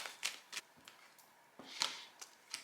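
A single card drawn from an oracle deck during a tarot-style reading: a few soft, separate papery slides and flicks spread over a couple of seconds, quiet and close with no talking.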